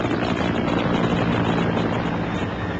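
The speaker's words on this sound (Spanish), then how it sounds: "un helicóptero aterraba para transportarlo al hospital." A helicopter coming in to land to carry a wounded man to hospital, a loud, steady rotor drone with rough wind-buffeted rumble, close and continuous with no voices.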